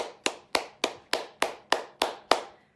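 Eight crisp hand claps in a steady, evenly spaced rhythm as cupped hands slap down the arm during self-massage, each sharp and close with a short decay, then silence.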